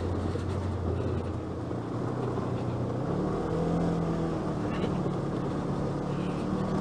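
A 2017 Polaris RZR 1000 side-by-side engine drones loud and steady while climbing a partly melted trail, with the pitch rising midway as it pulls harder.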